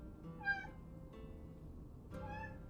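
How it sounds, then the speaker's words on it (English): A house cat meows during a quiet yoga session, with two clear, fairly faint calls separated by a pause. "So forgive my cat for being talkative."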